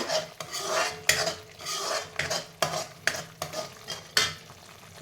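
A spoon scrapes and stirs a thick tomato rice mixture in an oily pan. The strokes come in a steady rhythm with sharp clinks against the metal, close and moderately loud, and no one talks.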